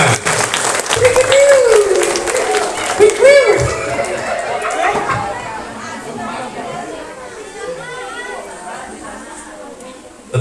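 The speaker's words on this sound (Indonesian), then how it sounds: "Tepuk tangan." Audience applause at an elementary school sixth-grade farewell and graduation ceremony, a steady crowd clapping with scattered chatter and chuckles over it, loud at first and gradually thinning out.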